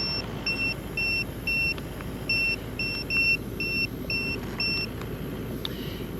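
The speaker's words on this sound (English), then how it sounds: "that's a TPMS" Repeating electronic double-tone beeps from a car's tyre pressure monitoring warning, sounding in short regular bursts over steady low road or engine rumble in outback Australia.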